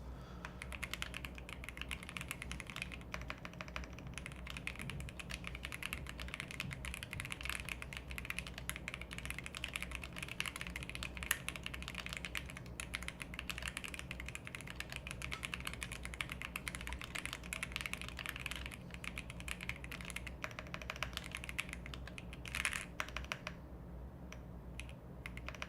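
Someone types on a computer keyboard during a typing test: a rapid, steady stream of close key clicks that runs unbroken for the whole stretch, with no voices.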